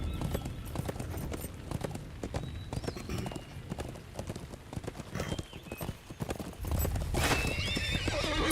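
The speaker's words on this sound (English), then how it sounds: "I think I'll actually get on my other horse here." Horse hooves clip-clop steadily at a walking pace while a rider travels on horseback in a video game. A neigh cuts through near the end, and the footfalls sound close and fairly loud.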